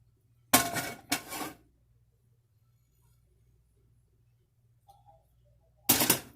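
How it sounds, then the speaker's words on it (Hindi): A pan is set down on a stove with sharp metallic clanks: two quick knocks, a quiet stretch, then another clatter near the end, all close and with no talk over them. "एक पैन रखेंगे"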